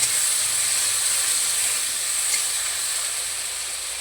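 Lote fish being stirred with onion and mixed spices in a hot pan, a steady close hiss of sizzling that eases slightly toward the end, with no talking.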